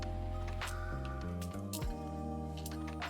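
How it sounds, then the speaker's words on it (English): A resin jellyfish being pulled from its mold gives soft squishy, sticky peeling sounds with a few small crackling snaps, close and quiet, over a steady musical background. "So next, I'm going to demold the Jellyfish. I love that sound."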